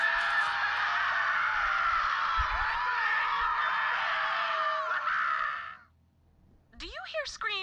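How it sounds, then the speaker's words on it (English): Shrill, sustained screaming from a crowd of enemies in the video game Borderlands 3, loud and dense for several seconds before cutting off, followed by a few sharper shrieking cries. "Do you hear screaming, or am I having another one of my episodes?"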